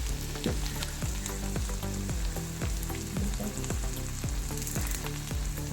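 Small anchovies cooked down as peera sizzle and spit steadily in a pan as the last moisture dries off, with repeated scrapes of stirring cutting through the close, continuous frying.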